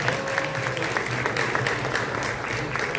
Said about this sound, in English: Round of applause to all of our candidates.